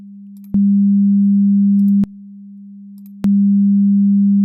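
Two sine tones in phase opposition: a steady low tone hums alone, switching between quieter and louder every second or so, with a small click at each change.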